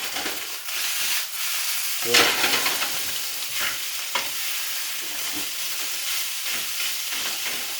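An egg frying in oil in a pan for leftover rice with sausage, with a steady sizzling hiss, a few louder crackles and occasional scraping stir sounds close by.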